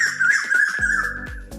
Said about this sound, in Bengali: বসন্তের কোকিলের ডাক সকাল সকাল